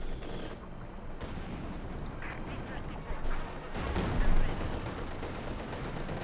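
Mortars and other guns fire in a Company of Heroes 2 battle between Wehrmacht and Soviet forces, a dense spread of booming blasts and crackling gunfire under steady excited commentary.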